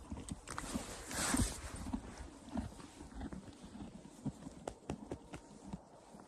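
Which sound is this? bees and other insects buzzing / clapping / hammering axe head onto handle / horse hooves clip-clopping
horse hooves clip-clopping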